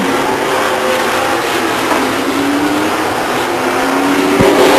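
Race cars roar around Stockton 99 Speedway on the final lap, a loud continuous engine drone with rising and falling pitch as cars pass, under steady crowd and track ambience.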